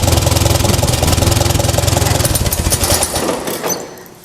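Tractor engine fitted with a 6 volt generator running close by, a steady rapid chugging pulse that holds for about three seconds then fades away as it winds down.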